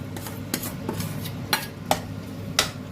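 Boiled potatoes, mashed, get stirred into a hot spice tempering in a pan for a white chickpea dish, with irregular metallic scrapes and clinks of a spoon against the pan over a faint background sizzle.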